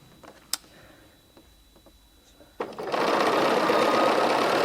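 A sewing machine stitching a quilt seam: a few faint ticks and clicks at first, then the motor starts abruptly and runs steadily, a loud, fast, even whirring chatter close by until the end, with no talk.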